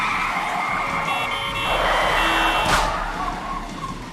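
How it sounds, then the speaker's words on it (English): Police sirens and city traffic in the video game 428 Shibuya Scramble, a steady wash of noise with wailing siren tones and a sharp rise near the middle, alone with no speech. "With shouts and sirens echoing all around him, Kano closed in on the foreigner"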